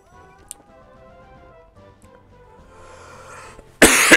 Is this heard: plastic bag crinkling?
no